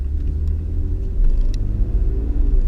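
Ford F-150 pickup with the 2.7 EcoBoost engine pulling away from a stop, heard as a steady low, close engine and road rumble that swells slightly partway through, with no talking.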